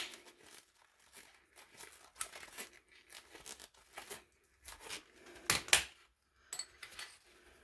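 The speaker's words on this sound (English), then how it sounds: "now we'll cut the ring off" A tool cuts through the ring on an old water pipe fitting during a pressure reducing valve replacement on a water main. It gives a series of short crunching, scraping strokes, close by, with one louder grinding pass in the middle.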